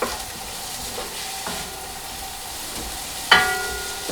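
Chopped leeks, finely diced celery and minced broccoli stems hit hot fat for a cream of broccoli and cheddar soup, giving a soft, steady sizzle, a few utensil scrapes, and a sharp metallic clink near the end.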